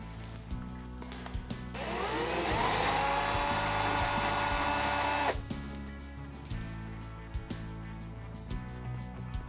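Power drill boring into plywood while mounting floating shelves: a loud steady whine for about three seconds in the middle, framed by shorter bursts and clatter.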